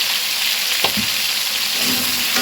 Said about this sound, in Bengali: আলুগুলো খুব সুন্দর করে ভেজে তুলে নেব